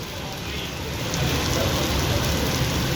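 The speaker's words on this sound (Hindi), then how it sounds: "ये जितने बारिश के कतरे गिर रहे हैं" Rain falls steadily at a chowk in Lahore, Pakistan, as a dense, loud, continuous hiss of drops on surfaces.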